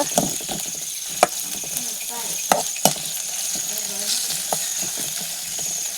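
Fish roe frying in oil, a steady close sizzle running throughout with a few sharp clicks and taps of a utensil against the pan.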